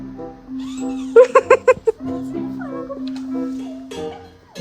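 A cat gives a quick run of short, sharp meows close by, while people talk throughout.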